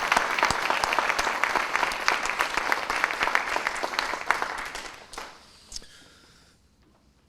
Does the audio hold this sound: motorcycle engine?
no